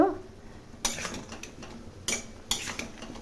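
Mutton curry being stirred in a metal pot over a high flame: three distinct spoon scrapes against the pot over a faint background bubble, fairly close and moderately quiet.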